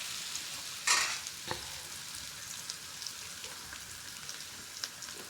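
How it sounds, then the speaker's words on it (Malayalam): Chicken masala with salt and coriander powder is stirred in a pan: a continuous close sizzle with soft scraping, broken early by a bright metallic clink, and no voices. "ഉപ്പും മല്ലിപ്പൊടിയും കൂടി ഇട്ടിട്ട് അടിപൊളിയായിട്ട് ഇളക്കിക്കൊണ്ടിരിക്കുകയാണ്"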